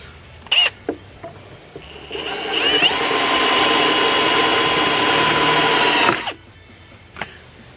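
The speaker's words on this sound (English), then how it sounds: "we're going to drill a hole in here" A power drill whirs steadily for several seconds boring a hole in wood, its high motor whine rising then cutting off, with a few short clicks and knocks before and after.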